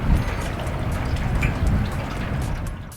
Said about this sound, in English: Unexpected rainstorm, y'all!